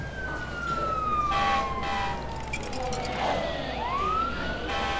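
In the SimCity 3000 city-building game, an emergency siren wails after a fire station is built, with sweeping falling and rising tones over a steady background hum, moderately loud and without talk.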